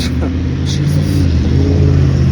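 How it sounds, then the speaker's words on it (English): A truck running a red light while turning at a city intersection, its engine a loud close rumble with a rising rev, heard over street noise alongside passing speech. "That truck really did run through that red light."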